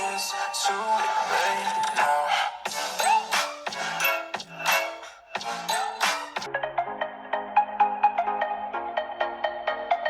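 Sony Xperia 1 V stereo speakers play a bright, tinkly ringtone-like melody of quick chimed notes at moderate volume. No voices are heard over it.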